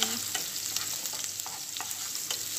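Food frying golden in a pan is stirred, with a steady close sizzle and repeated light scraping strokes of the spatula, and no one speaking.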